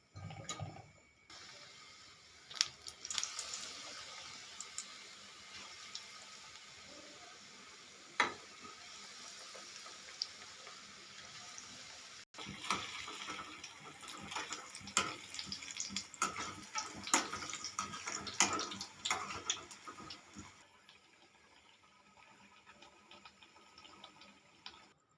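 Potato chip bhaji, sliced potato chips in batter, frying in hot oil with a steady bubbling sizzle that runs nearly the whole time, swelling and crackling as pieces go in, then easing off near the end.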